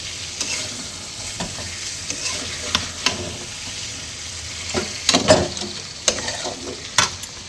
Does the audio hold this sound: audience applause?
no